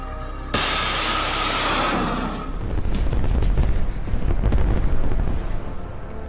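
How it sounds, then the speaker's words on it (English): Cluster munition blasts in war footage, striking an area where an ammunition truck sits: a sudden loud burst of explosion followed by a rumbling roar and a rapid crackling string of secondary bangs, distant and heavy, with wind buffeting. "The cluster munition explodes,"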